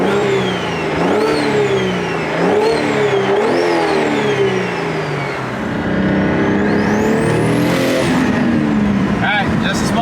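A 700 horsepower BMW N54 car accelerates hard with rising engine revs through gear changes, loud and close from inside the cabin, with a sharp whine climbing at the top of a pull.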